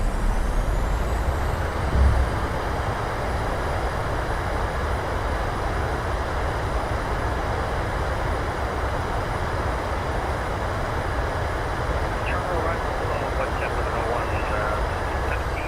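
Thrust reversers of a PMDG 737 roar on the landing rollout in Microsoft Flight Simulator, a steady, dense, loud broadband rush that holds level throughout.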